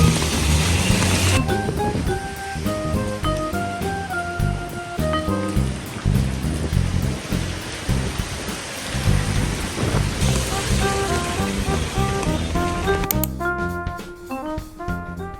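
Heavy rain falls with thunder in Hong Kong as a steady, loud downpour that fills the whole scene, with deep rumbles rolling underneath and no voices heard.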